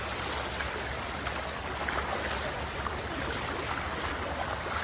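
Floodwater rushing over submerged paddy fields after heavy rain, a steady broadband roar of flowing water that holds constant throughout, with no talk.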